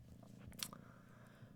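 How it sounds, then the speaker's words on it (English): A kitty purrs quietly and close by, a soft steady low rumble that runs through the short stretch with a brief brighter rustle in the middle. "I got my kitty here to be hanging out with us in this session"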